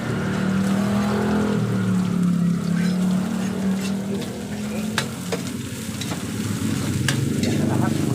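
Bopis ingredients of pork innards, ginger and chili sauté in a pan, producing a loud, dense, continuous sizzle over a low steady hum, with a few faint clinks of stirring.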